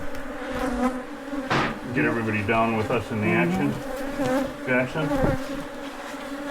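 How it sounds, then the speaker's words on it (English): Angry bees swarm densely and continuously around old honeycomb, buzzing close and loud while people talk over the swarm. "Yep, old comb, honey, mean ass bees."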